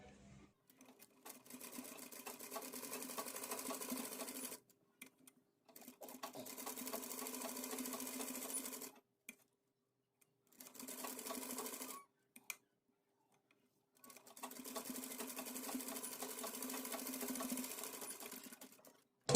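A sewing machine stitches around the edge of a fabric dori pendant in four steady bursts of running, separated by short pauses, fairly close and alone without talk.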